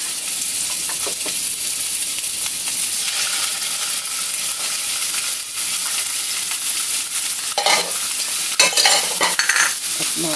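Garlic frying in a hot pan, a steady bright sizzle with stirring and occasional utensil scrapes, loud and close throughout with no talking.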